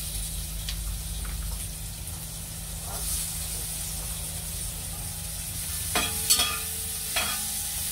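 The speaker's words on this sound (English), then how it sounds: "I'm going to add the onions now." Onions sizzle softly in a pan on a home stove, a faint steady frying hiss with occasional stirring scrapes and clinks toward the end.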